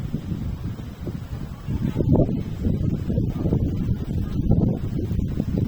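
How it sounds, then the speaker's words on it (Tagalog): Strong wind buffets and roars steadily in gusts at an outdoor airplane-flying event, a low rumbling rush that swells louder midway, with no voices. "Masyado mahangin."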